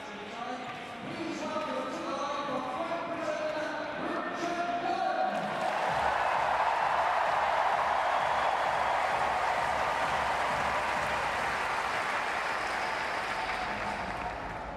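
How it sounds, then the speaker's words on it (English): A home crowd at the London 2012 Paralympic velodrome cheers and applauds a track cyclist in the men's C1-3 kilo, the noise swelling to a loud, sustained roar that fills the arena, with a commentator talking over it. "the crowd is absolutely behind him"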